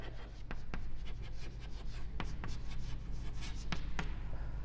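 Pen or chalk writes during a Class X maths lesson on circles and tangents, a quiet stream of soft scratching strokes and sharp taps close by, with no talking over it.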